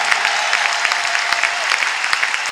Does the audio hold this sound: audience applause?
yes